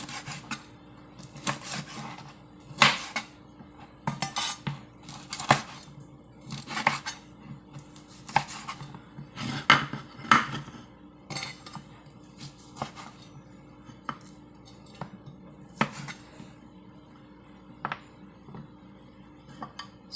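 Leftover lechon belly is sliced with a knife on a board, giving a steady run of crisp cuts and scraping taps over about twenty seconds, close and fairly loud with no talk.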